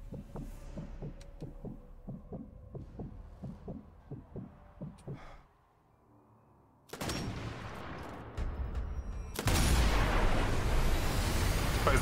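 Sniper rifle shots in the Sniper Elite 4 game: sharp loud cracks with long rumbling tails break in near the end after a stretch of soft rhythmic thumping and near silence.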